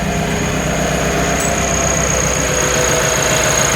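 An 18 hp Citroen 2CV's small air-cooled engine idles with the choke pulled out, a steady close-up rhythmic chugging hum that holds even throughout, with a faint high whine above it.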